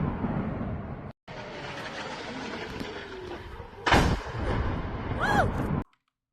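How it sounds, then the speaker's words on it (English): A sudden loud blast booms out amid steady background rumble, followed by crackling and whistling streaks trailing off before abrupt silence. "it is pretty loud whenever this explosion goes off"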